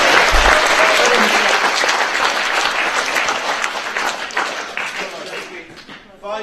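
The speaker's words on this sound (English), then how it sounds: "Can we get a round of applause for that?" Audience at a small-town community awareness event applauds a piece of artwork, a dense burst of clapping that swells at once and then thins and fades out, with some voices mixed in.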